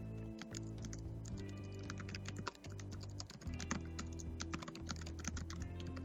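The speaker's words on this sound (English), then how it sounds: "I hear you typing." Rapid typing clatters on a computer keyboard in steady bursts with brief pauses, close and fairly quiet, with no voices over it.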